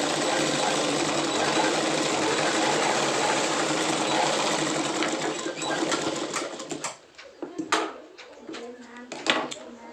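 An electric sewing machine stitches pant fabric in a steady, close whirring run for about six seconds, then stops and leaves a few sharp clicks and handling knocks.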